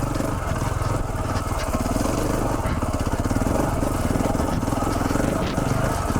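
Single-cylinder KTM 690 Enduro motorcycle ridden off-road on a big mountain dual-sport ride, its engine chugging steadily and loud throughout with a rough, pulsing low rumble, close to the rider.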